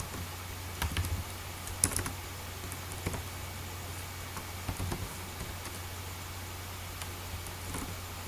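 Light keystrokes on a computer keyboard while deleting code in CodeIgniter 4, faint scattered taps and a few quick clusters over quiet room hiss, no talk.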